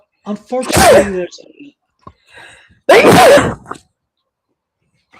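A single loud sneeze bursts out close to the microphone, followed by a second sneeze a couple of seconds later, with a person speaking briefly around them on an indoor livestream.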